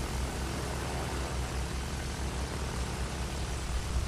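A plane in the video game Battlefield 1 drones steadily with a loud, continuous propeller-engine hum and broad rushing noise, alone with no talk.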